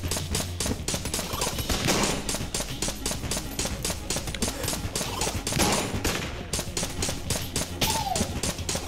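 Rapid, continuous gunfire from a crude, inaccurate weapon in the Enter the Gungeon video game, a dense rattling barrage that keeps going throughout, with small game effects mixed in.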